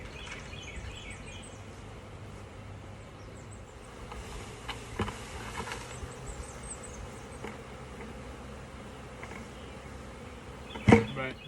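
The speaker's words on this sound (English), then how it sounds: "But the bees being on top of this lid is a pretty good indication that the queen is in this bucket." A honeybee swarm buzzes around a bucket outdoors: a soft, continuous drone of many insects throughout, with a brief sharp knock near the end.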